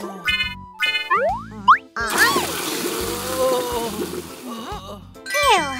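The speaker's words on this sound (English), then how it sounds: "let's use some spray to help the police car get back to normal" Cartoon spray effect used on a zombie-infected police car in a children's car hospital cartoon: a burst of hissing spray with bouncy, sliding whistle-like tones and chimes, loud and busy, preceded and followed by playful boings.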